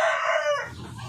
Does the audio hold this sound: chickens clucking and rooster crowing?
yes